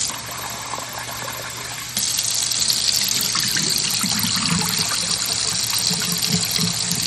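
Tap water gushes steadily while long grain rice is washed, a loud continuous rush that grows louder after a brief softer start, with no talking.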